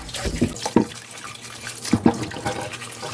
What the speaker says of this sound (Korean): 굵은 소금으로 씻은 걸 이제 여러 번, 한 3번 정도 씻어 주겠습니다.